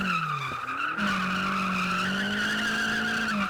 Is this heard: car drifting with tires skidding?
yes